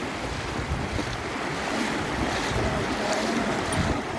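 Loud, continuous rush of fast-flowing floodwater after overnight rain in Saphale, a broad roaring wash that stays steady with no voices.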